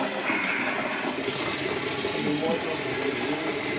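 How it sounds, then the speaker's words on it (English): Tap water running into a newly repaired kitchen sink and trap, a continuous gushing splash and gurgle close by, steady throughout with faint voices beneath. "We'll get the water on and give it a test"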